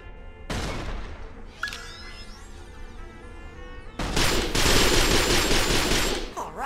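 Bursts of gunfire from shots in the Resistance 3 game, a sharp volley at the start, then quieter action before a loud, dense stretch of rapid fire fills the last few seconds.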